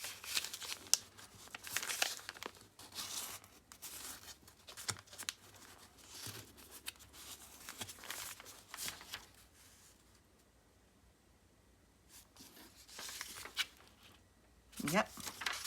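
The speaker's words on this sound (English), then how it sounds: "So I'm tearing it halfway out. And then I'm folding it down." Art journal paper being torn partway out and folded down, a run of crinkling, rustling and ripping sounds close by, with a person talking over much of it and a brief quiet gap before more handling.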